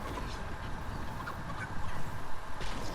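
Chicken clucking in the video game Fortnite, a busy run of bird calls layered over steady game noise, getting louder and choppier toward the end.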